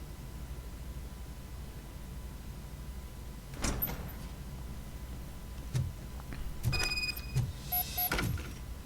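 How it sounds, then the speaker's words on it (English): A door opens in the video game Robocop: Rogue City, heard as a few mechanical whooshes and clunks over a steady background hiss, moderately loud with no talking. "Now let me get that door open for you."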